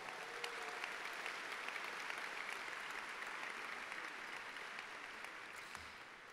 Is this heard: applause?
yes